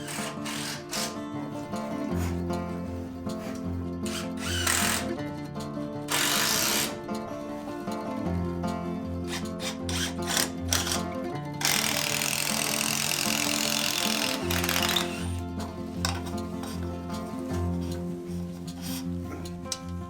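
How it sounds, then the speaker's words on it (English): A power driver repeatedly whirs in bursts as 65mm screws are driven through the ends of wooden cross sections of a ceiling frame during a Japanese renovation, with brief pauses and clicks between each screw. "I'll secure the cross sections using 65mm screws at both ends"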